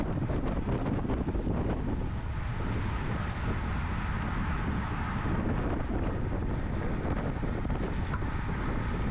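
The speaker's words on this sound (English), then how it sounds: "As you could probably hear, it was a windy day" Heavy wind buffets the microphone of a cyclist racing on a circuit throughout, a constant roaring rush with gusty swells and no speech.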